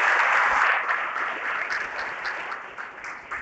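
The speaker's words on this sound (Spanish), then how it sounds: "¿Qué tal si damos un aplauso al Señor?" A church congregation claps for the Lord during a Spanish-language sermon, a full burst of applause that starts loud and gradually thins and softens toward the end.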